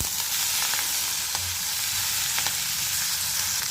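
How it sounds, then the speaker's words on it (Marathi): Onion, lentils and fenugreek leaves fry in a pan for a Marathi methi bhaji, a steady close sizzle with faint scattered crackles and a soft stirring scrape. "कांदा डाळ आणि मेथी अशी धुवून घेतली आहे व्यवस्थित, आता ती ॲड करतो आपण।"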